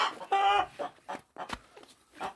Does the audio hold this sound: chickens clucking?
yes